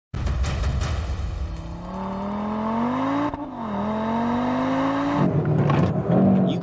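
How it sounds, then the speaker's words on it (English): Audi RS 3 prototype in a launch control start, engine revving hard as it pulls away, pitch climbing through gears with a brief dip at a shift, loud and close with no voices. "Let's begin with the launch control start with our new launch control traffic light"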